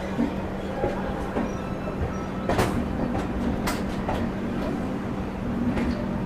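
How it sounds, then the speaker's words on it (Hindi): Passenger train running on rails near a railway station, a steady rumble with repeated rail clicks and clacks, fairly quiet throughout with no talk. "7:10 पर अपनी जो ट्रेन है Rajendra Nagar terminal railway station में पहुंच चुकी है।"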